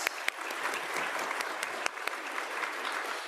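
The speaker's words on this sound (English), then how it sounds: "Let's give them a round of applause" Audience applause for conference panelists at a plenary session, a steady, dense wash of many hands clapping that holds evenly for the whole stretch, with a few sharper claps standing out.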